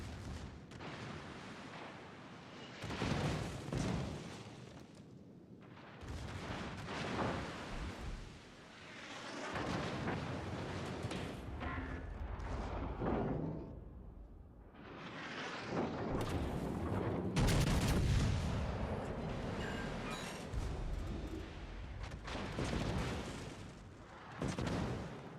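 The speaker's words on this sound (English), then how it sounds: "Does have good little 305mm guns though" Heavy 305mm battleship guns fire in a World of Warships Legends match, a series of loud, booming salvos with long rumbling tails that overlap and roll on almost without pause.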